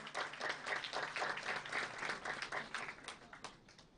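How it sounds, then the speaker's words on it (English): Audience applause at an international management conference, a steady dense patter of many hands clapping throughout, fairly close and even in loudness, with no voices over it. "Everyone, please give him a big round of applause."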